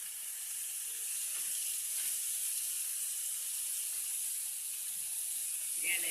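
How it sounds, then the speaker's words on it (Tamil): Mint leaves sautéing in a pan give off a steady, even hiss of sizzling that holds throughout, with a slight swell near the end. "போட்டு இலையும் அது கூட போட்டு வதக்கிடணும்."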